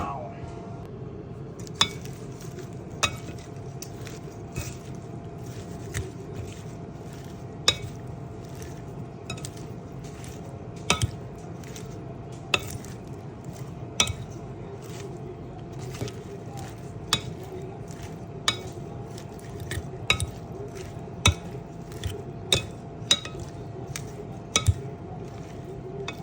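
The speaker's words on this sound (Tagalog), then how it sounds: "It was relaxing to mix this salad." A veggie salad with mangoes and blueberries is tossed in a bowl, giving soft squishy stirring and a steady series of sharp clinks as the utensils tap the bowl, close and clear over faint background noise.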